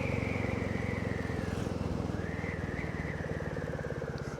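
A Royal Enfield Meteor 350 cruiser motorcycle from 2023 under way, its single-cylinder engine giving a steady rapid thumping drone with a rising and falling whine, close and continuous throughout, with no voices.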